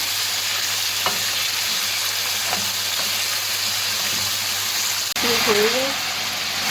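Mutton karahi sizzles and fries steadily in a pan over high heat, a constant loud hiss with occasional stirring clatter and a brief voice near the end.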